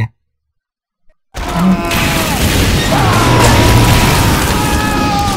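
A loud, rumbling explosion in Team Fortress 2 erupts after a moment of silence, followed by a sustained roar of debris and crackling that fills the rest.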